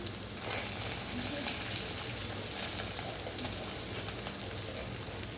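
Spinach fries in a pan for palak paneer, giving a steady, dense sizzle that stays even and close from start to finish, with no other sounds.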